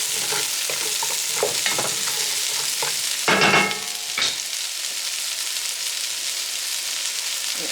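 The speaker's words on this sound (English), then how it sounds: "Let the onion saute a little." Onion, carrots and celery sauté in a pot with a constant close sizzle, broken by several scraping stirs and clatters of a spoon against the pot, with no talking.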